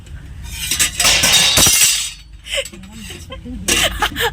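Kitchen utensils fall and break in a home kitchen, giving a couple of loud, bright crashing bursts with rattling clatter, followed by quieter scattered clinks and a voice.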